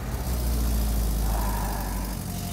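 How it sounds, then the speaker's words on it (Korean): A Porsche sports car engine turns over and settles into a deep, steady rumble, close and loud, with no voices. "시동 한번 걸어드려요?"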